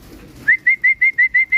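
Old racing pigeons give a run of six short, clear, evenly spaced calls close by, each a bright sustained note, with no talking over them.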